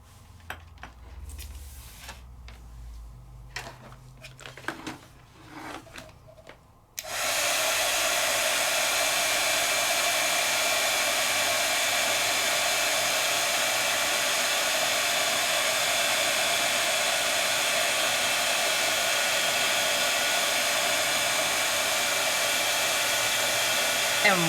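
A handheld heat tool blasts on after a few quiet seconds of small clicks and handling noises, then keeps up a loud, steady, even blowing whoosh over wet ink for the rest of the clip.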